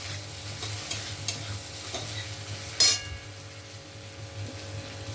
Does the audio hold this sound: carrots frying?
yes